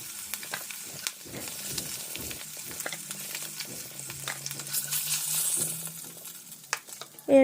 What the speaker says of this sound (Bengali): মাছগুলোর এপিঠ ওপিঠ উল্টিয়ে লাল লাল করে ভেজে উঠিয়ে